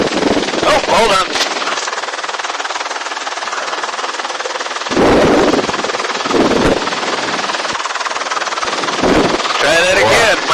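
A machine gun fires in bursts, loud, close rapid rattles separated by short pauses, with a helicopter drone and voices talking underneath.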